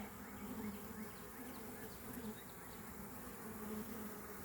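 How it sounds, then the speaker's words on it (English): Honey bees from a caught swarm buzz steadily and close around a frame held up while being moved between hive boxes, a dense continuous hum with no talking. "I don't want to squish no bees and get stung"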